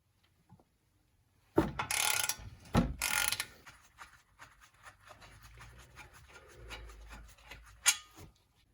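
Ratchet wrench working on brake caliper mounting bolts during a brake pad and rotor job, with a couple of loud grinding bursts followed by a run of quick, close clicking pawl ticks and a sharp final snap.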